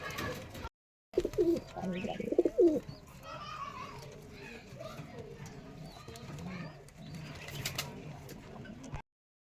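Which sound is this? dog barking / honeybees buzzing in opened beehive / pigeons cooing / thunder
pigeons cooing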